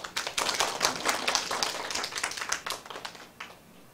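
A lecture audience bursts into scattered hand clapping at a study seminar session, a dense patter of claps that swells early and gradually thins out toward the end, with no talking over it.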